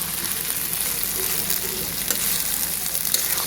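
Onions frying in plenty of oil, a dense steady sizzle with a crackling hiss that holds evenly throughout, fairly loud and close with no voices.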